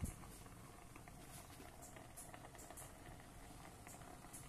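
Water boiling in a steamer under cassava suman and puto bumbong, a faint, steady bubbling hiss with light patter throughout, no voices.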